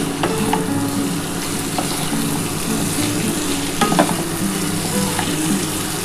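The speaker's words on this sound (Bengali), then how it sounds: "আর খুব ভালো করে কিন্তু মশলার সাথে কষিয়ে নিতে হবে।" Pointed gourd and potato pieces frying with spices and a little sugar, a loud close sizzle under repeated scraping and knocking of a spoon stirring against the pan.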